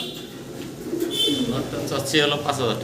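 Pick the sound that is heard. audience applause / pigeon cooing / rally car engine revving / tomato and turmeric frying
pigeon cooing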